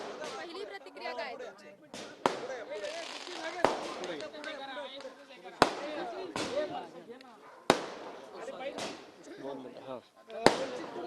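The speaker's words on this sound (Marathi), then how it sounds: "फटाके फोडले जात आहे" Sharp firecracker bangs burst at irregular intervals, about eight cracks, loud and close, while a crowd of political supporters welcoming a candidate talks and chatters throughout.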